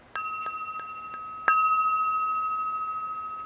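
A lead crystal glass is tapped lightly four times, then struck harder, leaving a clear bell-like ring that sustains and slowly fades.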